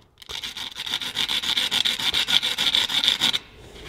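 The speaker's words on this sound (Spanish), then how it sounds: "ahora realizo el acabado con un trozo de papel de lija" Sandpaper smooths the sharp edges of a small piece, with steady rhythmic rasping strokes, about a dozen quick back-and-forth passes, close and fairly loud, ending abruptly.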